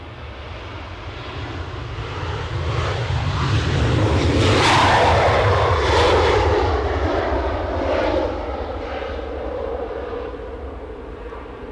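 An airliner departs Edinburgh Airport, its engine roar swelling to a loud broad peak mid-clip before slowly receding, a steady continuous rumble with no talk over it.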